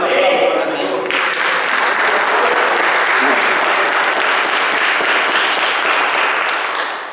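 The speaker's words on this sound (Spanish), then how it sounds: "Denle un aplauso al Señor." A church congregation applauding loudly and steadily for several seconds, a dense wash of clapping that fades slightly at the end, with voices underneath.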